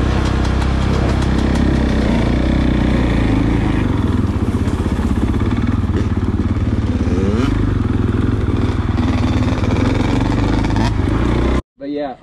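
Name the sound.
motorcycle ridden during rider training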